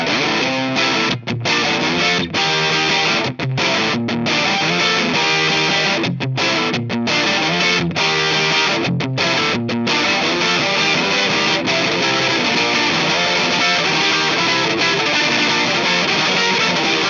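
Distorted electric guitar through an overdrive pedal plays continuously and loudly with chords and riffs, a few brief gaps of silence early on, no voices.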